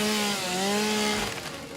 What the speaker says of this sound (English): we're gonna also turn the chainsaw sound down